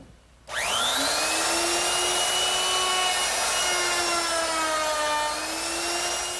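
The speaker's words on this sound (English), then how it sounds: "I'm going to use a 1/2 inch rounding over bit." A router with a 1/2 inch round-over bit spins up with a sharp rise to a loud, high steady whine, shaping the edges of a trestle table top with a slight shift in pitch as it cuts.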